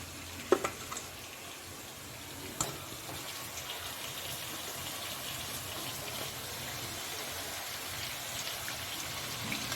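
Half a kilo of washed, drained bone-in chicken frying in hot oil gives a steady, dense sizzle throughout, with a couple of sharper pops near the start.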